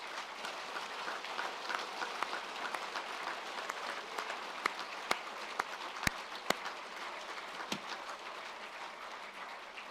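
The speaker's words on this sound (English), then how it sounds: "why don't you just give each other just one more big round of applause" Applause from graduates at a Birmingham Business School graduation celebration, a steady soft patter of many hands clapping at a distance for the full stretch, with a few sharper individual claps standing out near the end.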